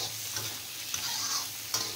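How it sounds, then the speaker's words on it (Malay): Ground dried chili paste sizzles and fries in hot oil as it is sautéed and stirred in a pan, a steady close crackle with a few brief scraping stirs. "Lepas tu saya tumis dia betul-betul sampai pecah minyak."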